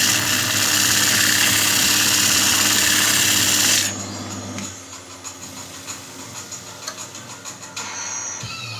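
A power sander with P80 grit sandpaper runs loud and close against wood, then stops abruptly partway through, leaving quieter ticking and tapping handling sounds.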